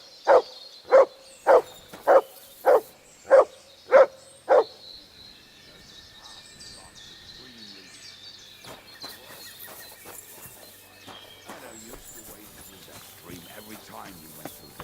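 Mutt, a dog in the video game Kingdom Come: Deliverance II, barks seven times in a quick, even rhythm, loud and close, then goes quiet while someone talks over soft ambient game sounds.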